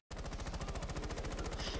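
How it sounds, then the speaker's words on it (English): Rapid automatic gunfire in the Rainbow Six Siege video game, a steady, loud, continuous stream of shots with an even rhythm lasting under two seconds. "I shot you in the head, Jaeger"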